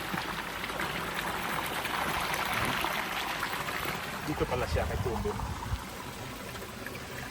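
Water pours steadily out of a drainage pipe into a creek in a flood-hit town in San Nicolas, a continuous rushing trickle heard close, with someone talking over it.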